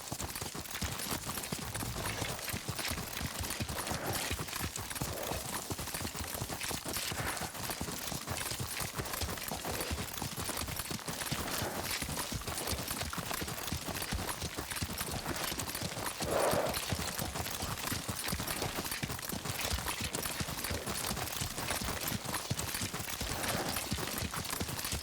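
A horse gallops in Ghost of Tsushima, its hoofbeats a fast, continuous clatter in a dense, loud wash of sound, with no talking.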